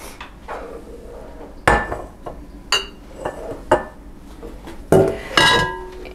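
A lid goes onto a pot of homemade chicken bone broth, a few sharp metallic clanks and clinks spaced irregularly, close by over quiet kitchen background.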